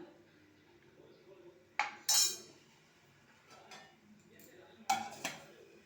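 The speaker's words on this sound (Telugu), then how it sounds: "మధ్య మధ్యలో ఇలా కలుపుతూ ఉండాలి బనానా మెత్తగా అవుతుంది" Mashed banana being stirred in a cooking pot while juice is prepared, heard as a few sharp metallic spoon clinks against the pot between softer scraping, close up, with faint talk in the background.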